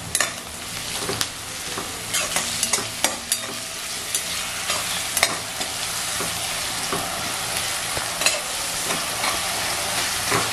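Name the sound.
coriander frying in tempering oil for prawn rice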